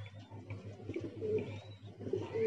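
Pigeon coos softly and repeatedly over a steady low hum, with a faint higher bird call drifting in, the birds at moderate distance outdoors.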